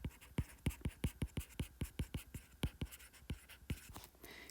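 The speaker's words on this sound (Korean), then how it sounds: "자, 이제까지 배운 사각형 제가 한번 써볼게요." Writing on a board during a middle-school geometry lesson on quadrilaterals: a quick, steady run of about twenty crisp, close strokes and taps, with no voice.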